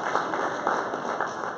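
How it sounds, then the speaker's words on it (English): An audience applauds a lecturer, a brief, steady patter of many hands clapping at moderate volume. "give him a great big round of applause"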